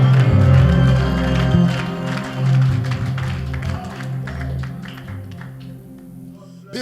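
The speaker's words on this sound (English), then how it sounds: "Clap your hands and give God a shout" A church congregation clapping and shouting over loud sustained organ or keyboard music, with the energy peaking early and then easing off as the music carries on.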